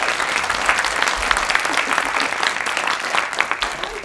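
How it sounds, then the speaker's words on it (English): An arts festival audience applauds a guest onto the stage, steady close clapping throughout with no break. "Please make a round of applause for Charlotte Chapman."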